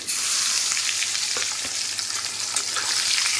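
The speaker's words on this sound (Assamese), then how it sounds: "এতিয়া মই এইখিনি মানে এইকেইটাও আলুকেইটাও অকণমান ফ্ৰাই কৰি ল'ম" Peeled boiled potatoes frying in a pan with a steady bright sizzle and crackle, broken by occasional soft stirring scrapes, close and fairly loud with no voices.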